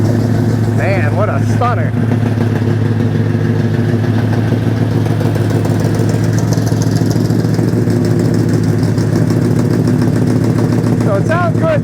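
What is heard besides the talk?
1962 Plymouth Savoy 440 engine idling loudly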